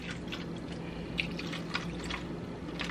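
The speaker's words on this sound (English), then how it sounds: "So I'm going to add me a little bit more vinegar." Vinegar trickles and drips into a cooking pot of pig's feet, a quiet, close pour with scattered small splashes and no voices.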